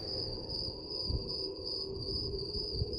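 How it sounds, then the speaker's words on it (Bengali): Steady, high-pitched chorus of crickets trilling continuously at night, with low rumbling background noise beneath. "চারিদিক ফাঁকা শুধু ঝিঝি পোকার ডাক শোনা যাচ্ছে"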